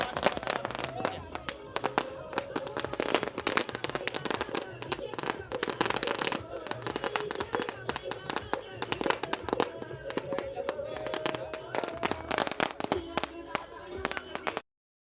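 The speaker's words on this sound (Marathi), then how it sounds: "इथे मात्र फटाक्यांच्या आतिषबाजीमध्ये करूया स्वागत." Firecrackers and fireworks burst in a dense, rapid crackling barrage for about fourteen seconds, set off as a welcome at a local cricket tournament, with a faint voice underneath.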